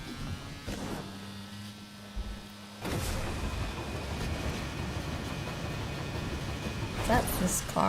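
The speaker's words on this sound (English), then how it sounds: "Is that this car sounding like a toy car?" A car in a video game gives off a thin, steady electric buzz like a toy motor. It starts faintly and grows louder and fuller partway through, with a few brief clicks near the end.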